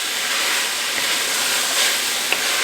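Beef minestrone ingredients sautéing in a pot, a steady broad sizzle and hiss that runs evenly throughout, close and fairly loud, with no talking.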